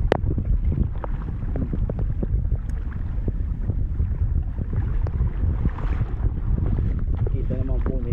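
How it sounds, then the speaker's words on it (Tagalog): A strong river current rushes in a loud, constant churn, close and rough with wind buffeting the microphone and scattered knocks, while someone speaks over it now and then. "Ay, grabe lakas po ng agos talaga mga idol."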